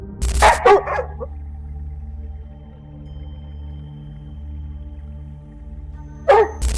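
Hunting dogs barking at a wild boar in a thick Scandinavian forest: a couple of sharp barks at the start and another burst near the end, separated by a long low steady hum.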